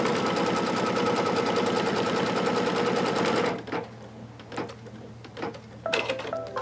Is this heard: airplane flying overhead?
no